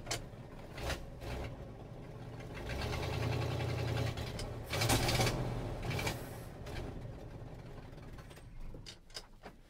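A neglected 1968 Ford F350 Bumpside engine runs with a rough, uneven mechanical chatter and knocking, swelling louder for a few seconds mid-clip before settling back, with no talk over it.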